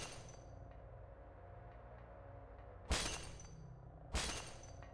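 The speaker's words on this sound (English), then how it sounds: "Or the glass breaking sound in the secret basement at Akamilla Hospital." Glass shattering as a sound effect in the secret basement of a hospital in the video game Silent Hill, two sharp crashes with ringing tails, heard over a low murky ambient drone.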